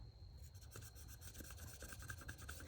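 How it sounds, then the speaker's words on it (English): A polishing block rubbed back and forth on the brass bolster of a Case Canoe pocket knife, giving a soft, steady close-up rasping scrape with rhythmic strokes and no voices. "I'll use it like this and just rub it on that brass."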